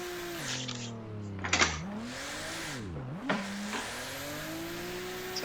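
A car accelerates around a track, its engine climbing in pitch, dropping sharply on gear shifts and rising again, with a brief tire-noise burst partway through; loud and close, with no talk.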